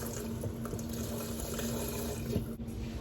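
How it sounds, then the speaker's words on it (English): Vegetable broth pours steadily into a cooking pot, a continuous liquid splash and trickle heard close up with no talking. "So I'm gonna use the vegetable broth. All right, I'm gonna add the whole thing in here."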